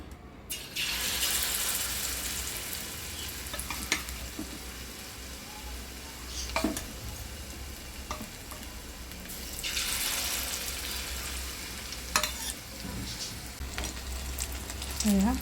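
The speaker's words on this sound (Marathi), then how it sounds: "आता मी तेल गरम करायला ठेवलेलं आहे आणि पटकन आता झटपट आता मी भजी बनवणार आहे" Bhaji fritters frying in hot oil give a steady, close sizzle that swells and fades, broken by a few sharp clinks and stirring knocks, with no talking.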